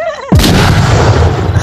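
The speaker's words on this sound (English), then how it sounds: "Run for your lives. There's a grenade." A grenade explodes in a VR video game with a sudden loud, close boom that rolls on into a rumbling tail, following a brief tonal game sound.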